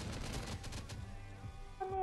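Turret gunfire in the mobile game Last Day On Earth, a dense burst of rapid shots under busy game noise, steady and loud for about two seconds, ending with a rising electronic tone.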